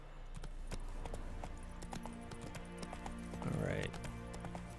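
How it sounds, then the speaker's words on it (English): Rhythmic clip-clop of a horse's hooves trotting at a steady pace in the video game The Witcher 3: Wild Hunt, with a brief whinny near the end over a low background drone. "Our good old magical horse."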